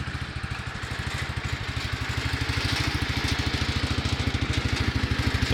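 An old Kohler engine on a Cub Cadet 129 tractor idles close by with a steady, low, rhythmic chugging that rises slightly in loudness. The engine tends to falter and die off at full idle.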